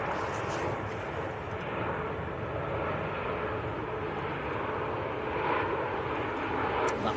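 A Ryanair airliner on short final at Manchester Airport, its engines producing a steady loud jet roar that holds through the clip with a slight swell near the end, alone without talk.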